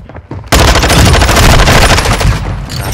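Sustained automatic gunfire in Call of Duty: Modern Warfare 2 erupts after a brief quieter moment, loud, dense rapid bursts rattling continuously for over two seconds with no speech.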